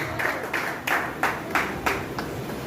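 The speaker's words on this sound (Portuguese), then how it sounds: "Aplaudimos o Senhor." Church congregation claps in unison, about eight steady rhythmic claps roughly every third of a second, sounding full and roomy over a low background hum.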